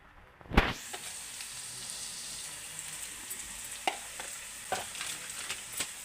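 An egg fry cooks with spices in a pan, giving a steady, fairly quiet sizzle after a sharp opening clank, with occasional spatula scrapes and taps as everything is mixed together.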